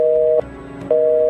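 A telephone busy-tone effect signals that there is no mobile reception: a steady electronic beep, a short gap, then the tone starting again. It is loud and clean, with no talk over it.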